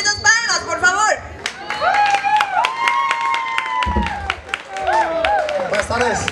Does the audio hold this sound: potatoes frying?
no